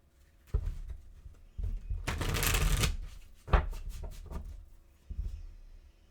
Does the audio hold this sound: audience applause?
no